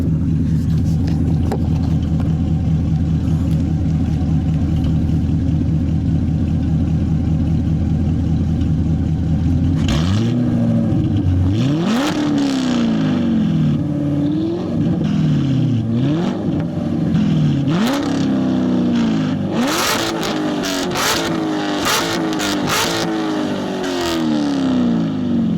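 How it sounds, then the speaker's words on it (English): A straight-piped, tuned 500 hp C7 Corvette V8 idles with a deep, rumbling burble for about ten seconds, then rips through a series of loud, sharp revs with crackling pops between throttle blips, out in open country. "to end this video, I guess I'll just do some revs"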